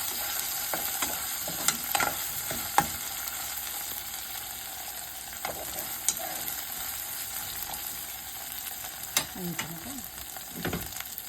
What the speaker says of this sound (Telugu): బాగా పచ్చి వాసన పోయేదాకా బాగా అల్లం వెల్లుల్లి పేస్ట్ వేయించాలండి.